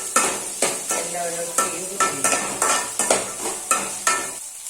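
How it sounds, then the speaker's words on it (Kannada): Cumin and coriander frying in a pan over a low flame, with a spatula scraping and stirring in a steady rhythm of about nine strokes over a continuous soft sizzle, close and fairly loud. "ಇದಕ್ಕೆಲ್ಲ ಈಗ ಜೀರಿಗೆ ಕೊತ್ತಂಬರಿ ಎಲ್ಲ ಹಾಕ್ತೇನೆ ಚೆನ್ನಾಗಿ ಫ್ರೈ ಆಗಿ ಲೋ ಫ್ಲೇಮಲ್ಲಿ ಇಟ್ಕೊಳ್ಬೇಕು"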